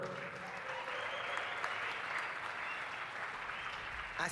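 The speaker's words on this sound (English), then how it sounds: "Let's give a big round of applause for Coach Micheal Burt." A live conference audience at D2D CON applauds steadily for Coach Micheal Burt, a dense, even wash of clapping that holds at the same level from start to finish.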